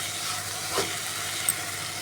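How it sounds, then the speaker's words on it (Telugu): Vegetables frying in a pan for semiya upma, a steady close sizzle with a faint stirring scrape partway through, no talk. "ఒక 5 నిమిషాలు బాగా ఫ్రై చేసుకుందామండి"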